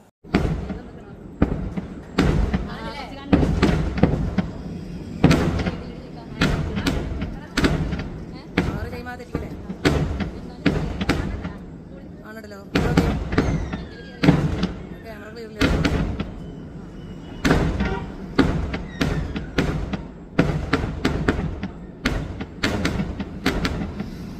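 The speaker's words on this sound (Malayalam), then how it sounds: "അങ്ങനെ നമ്മുടെ കുറേ നേരത്തെ കാത്തിരിപ്പിന് ശേഷം വെടിക്കെട്ട് വന്നു" Fireworks explode again and again at the Uthralikavu sample fireworks display, in irregular bursts of deep booms and sharp cracks, loud and close, with voices around them.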